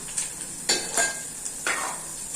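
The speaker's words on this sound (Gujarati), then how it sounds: "આપણે લસણ લાલ થઈ જાય પછી એમાં આપણે ડુંગળી એડ કરીશું" Chopped garlic fries in a pan for a Kathiyavadi fenugreek-seed curry, giving a soft hiss punctuated by a few brief stirring scrapes, close and quiet, with no talking.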